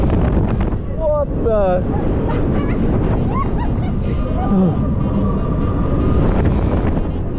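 Strong wind buffeting a microphone at a winter amusement park, a loud, steady broadband roar throughout, with startled voices speaking and exclaiming over it.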